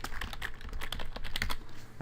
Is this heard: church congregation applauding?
no